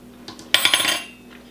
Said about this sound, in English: drop the fork